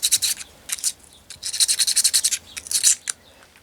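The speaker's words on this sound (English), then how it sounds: "I'm cleaning these 2 points and these 2 points here with small pieces of sandpaper going like this" Small pieces of sandpaper rubbing the contact points of a Faithfull No. 4 hand plane, heard as close, rhythmic bursts of dry scratchy strokes in quick runs separated by short pauses.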